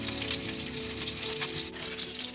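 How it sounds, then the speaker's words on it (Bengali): Pieces of bitter gourd fry in oil with a steady, close crackling sizzle and light stirring, along with faint sustained hum tones beneath. "এই উচ্ছেগুলোকে বেশ ভালো করে একটু ভেজে নেবে।"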